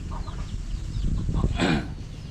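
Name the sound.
chicken and chick clucking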